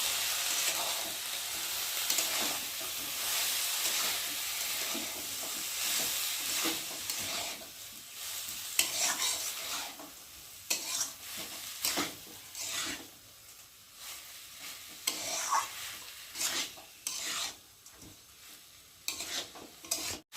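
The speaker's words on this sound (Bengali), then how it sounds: "ভালো করে নেড়ে দেবো" Egg pulao stirred and frying in a pan, a steady soft sizzle under repeated scraping and rubbing strokes of a spoon against the pan, fairly quiet and close, with no talking.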